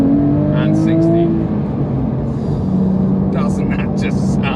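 A stock-exhaust Porsche 911 GT3 997.2 accelerates hard, its loud, steady engine note rising in pitch through the gears, with someone talking over it and faint wind and road noise underneath.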